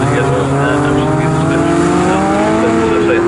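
750MC Sport Specials race cars at Snetterton circuit roar loud and close, engines screaming with rising and falling pitch as they pass, tyres squealing, under a commentator's voice.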